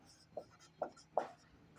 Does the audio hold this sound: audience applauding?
no